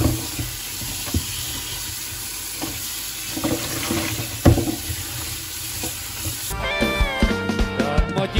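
Tap water runs while chilies are washed, a continuous rushing splash with stirring and clatter before a musical passage takes over near the end.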